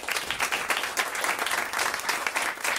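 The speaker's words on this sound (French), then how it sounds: "On vous applaudit." Studio audience applause on a French radio-TV talk show, a steady dense wash of many hands clapping, fairly loud and close, with no talk over it.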